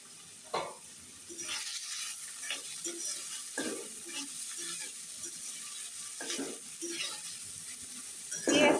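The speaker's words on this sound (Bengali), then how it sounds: "এখন ওই তেলেই পেঁয়াজটা ভাজি করে নিব।" Onion frying in oil in a karahi wok for a lentil mash dish, a soft steady sizzle with a few clinks and scrapes of a spatula stirring, fairly quiet and without talk.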